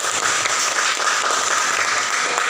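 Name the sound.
classroom applause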